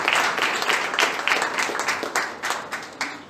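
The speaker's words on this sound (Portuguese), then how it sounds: "Você pode aplaudir o Senhor?" A church congregation applauds the Lord together, dense steady clapping filling the space with a few louder claps standing out, fading slightly toward the end.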